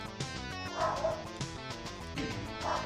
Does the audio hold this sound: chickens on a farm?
no